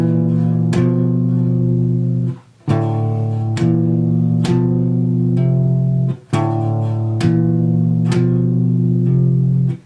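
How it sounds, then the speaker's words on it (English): Electric guitar picks out rising parallel tritones, sounding as a steady series of sustained two-note intervals, each struck cleanly and ringing, with brief pauses between phrases and no voices. "So those are parallel tritones moving upward"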